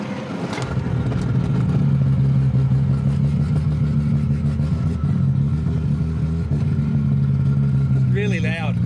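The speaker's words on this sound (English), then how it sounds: "Ridiculously loud it is with the flapper valve open." An RB26-engined Nissan Skyline R32 with its flapper valve open roars loudly and steadily at close range while being driven hard, a dense, constant engine drone with a brief chirp near the end.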